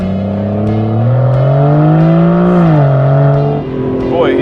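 Aston Martin DB11 prototype on a race track, its engine pulling hard under throttle with a loud, steady rising drone, a brief dip near the end before it resumes.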